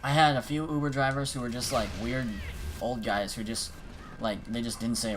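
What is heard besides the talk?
No everyday noises stand out.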